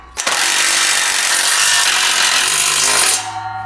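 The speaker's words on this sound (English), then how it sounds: "Go ahead and tighten that down with the 9/16 deep socket." A power tool with a 9/16 deep socket drives a bolt tight while assembling a MicroSport Overland trailer, a loud continuous whirring run of about three seconds that stops abruptly, alone with no talk.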